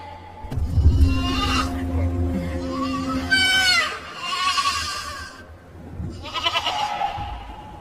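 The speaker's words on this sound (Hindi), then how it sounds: "तेरी बकरी सालों से यहाँ रोती है" A goat bleats in a village setting, with several wavering cries of moderate loudness following a low rumbling start and some background noise.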